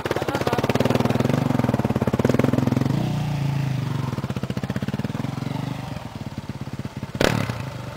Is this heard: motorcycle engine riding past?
yes